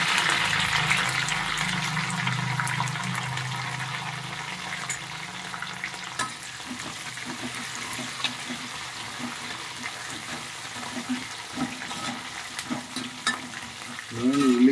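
Tempering of dry chillies, onion and curry leaves frying in hot oil, a steady loud sizzle with stirring scrapes that thins into crackles and spatters partway through, close up and without speech.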